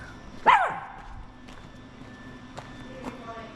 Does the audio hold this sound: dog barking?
yes